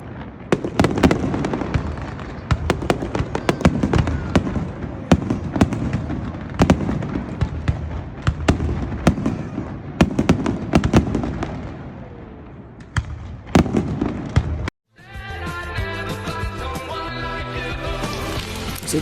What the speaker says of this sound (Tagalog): fireworks display na ginagawa nila every Saturday weekend at around 9 p.m.